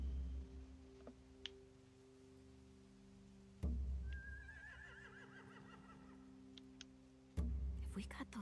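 Horses whinny in a quiet scene from The Walking Dead video game, one rising neigh standing out mid-clip among softer ambient sounds and brief bursts of noise.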